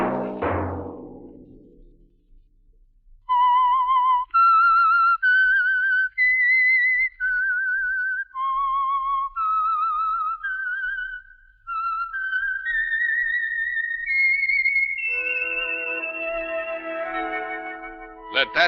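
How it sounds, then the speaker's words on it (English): Whistled theme signal of the radio mystery program The Whistler, a lone, eerie melodic whistle rising and falling in a sequence of sustained notes with slight echo, closing on a brief orchestral swell. "Let that whistle be your signal for the Signal Oil program, The Whistler"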